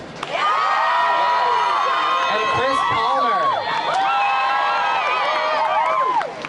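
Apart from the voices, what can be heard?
crowd clapping and cheering at climate strike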